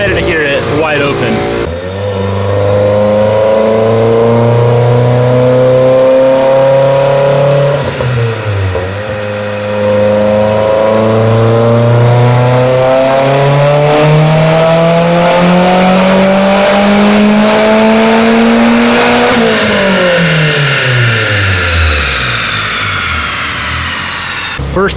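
A tuned Mitsubishi Evolution engine on ethanol roars at full throttle on a dyno, pitch climbing steadily through long pulls, briefly dropping between gears before winding up again.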